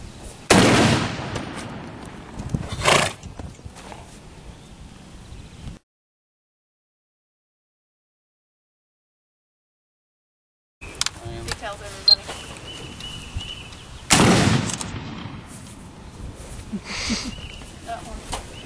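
Two loud gunshots crack out during a horse-shooting session, each a sharp broadband blast separated by a long silent gap, with people talking faintly around them.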